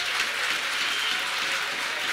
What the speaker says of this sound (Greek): Η νεολαία να δώσει το πιο θερμό της χειροκρότημα